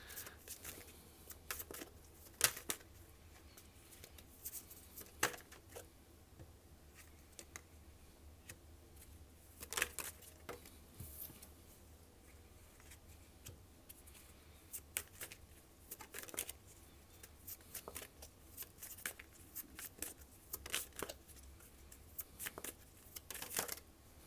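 Tarot cards are shuffled and drawn by hand: soft, irregular riffles and crisp snapping clicks come in scattered bursts, fairly close and quiet, with no voice.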